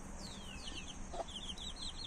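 Chickens cluck softly in a cage at the far end of a garden, with repeated short calls over a steady outdoor background and no talking.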